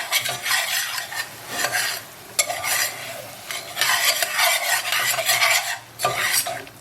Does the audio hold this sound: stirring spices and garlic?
yes